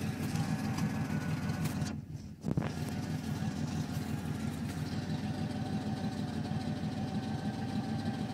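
A 1988 Chevy C1500 pickup idles with a cut exhaust and glass pack muffler, giving a steady, loud, rumbling low drone that briefly dips for a moment before settling back into its even idle, with no talk.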